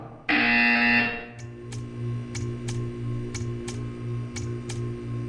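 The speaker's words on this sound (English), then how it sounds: "You will hear a buzzer." A loud electronic buzzer in the video game Portal 2 blares for about a second, then gives way to a steady hum with faint regular ticks.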